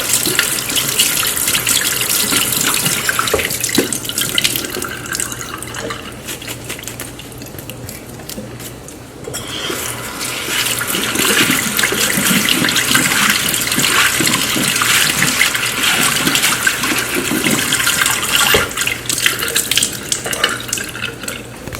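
Washed bitter leaf is rinsed under a running tap, with a loud, steady gush of water splashing into a sink. The flow dips briefly near the middle and then continues strong and unbroken to the end.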